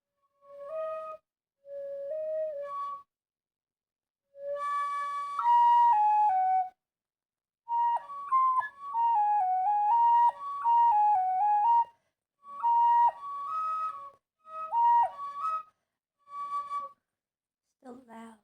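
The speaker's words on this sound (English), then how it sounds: "Or I just actually make my whistle a little harder to play," Loud, clear whistle playing an improvised melodic tune from a game, in phrases of sustained and sliding notes separated by short pauses, alone with no talking.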